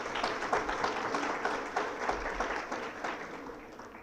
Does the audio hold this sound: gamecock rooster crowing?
no